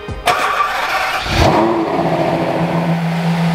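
A crashed, dust-covered Ferrari in Azzurro California blue cranks and catches, its engine firing up with a sharp burst, then revving once before settling into a steady idle, close and loud with no talking.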